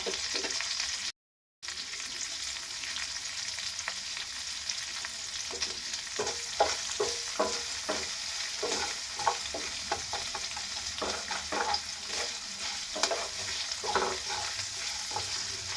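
Chopped green chillies and grated ginger frying in a pan, a steady oil sizzle with repeated scraping and stirring strokes from a spatula, close and continuous.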